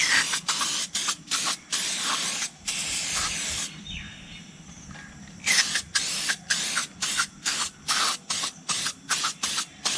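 Engine shiner sprayed onto a motorcycle engine's cylinder and crankcase in quick, sharp hissing bursts, close by, with one longer continuous spray hiss partway through before the short rhythmic bursts resume.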